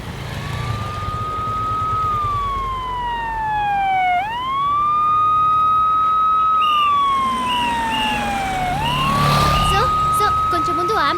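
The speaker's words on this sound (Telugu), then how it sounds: "కొంచెం ముందు అంబులెన్స్ ని పంపించండి సార్." An ambulance siren wails steadily through city traffic in a Telugu film scene, loud and near, sweeping up and down in long slow cycles over the hum of road noise.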